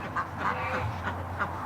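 Several ducks quack in a yard near a barn, short nasal bursts repeating every half second or so at moderate distance over a steady low hum, with no talking.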